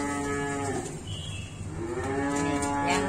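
A Limousin cow at a cattle dealer's yard moos in a long, loud, close call with harmonic tones, holding steady for about three seconds with no talk.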